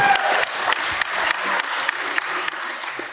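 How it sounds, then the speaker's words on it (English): Wedding guests at a reception applaud the food in a steady burst of clapping that fills the room, with individual sharp claps standing out through the dense patter. "Can we get a round of applause for the food?"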